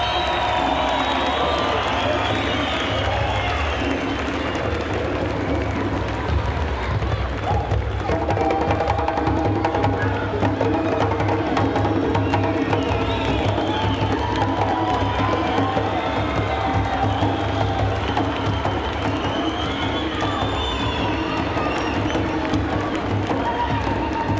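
A packed boxing arena crowd waiting for the undisputed heavyweight champion sends up a continuous roar of cheering and shouting, with scattered whistles and claps, loud and unbroken throughout.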